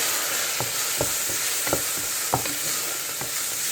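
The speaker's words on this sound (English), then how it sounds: "Give it a good stir." A spoon works through spaghetti bolognese sauce, mixed with hot Maggi sauce, in a sizzling pan, giving rhythmic scraping strokes about every half second over a constant hiss.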